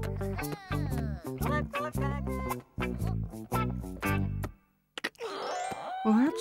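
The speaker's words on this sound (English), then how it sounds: "I wonder who rang the bell." A cartoon doorbell chimes near the end of a children's animated episode, a short bright ring following a stretch of cheerful music and voices.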